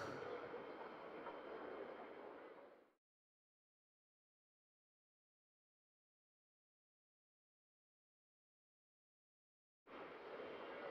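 Train rumble in Demon Slayer: Kimetsu no Yaiba – The Hinokami Chronicles, a broad steady roar that runs for three seconds, cuts to silence, then returns near the end.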